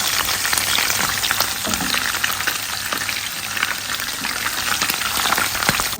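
Fermented fish frying in hot oil for a garden egg stew, giving a steady dense sizzle and crackle that continues throughout, close and loud with no voices over it.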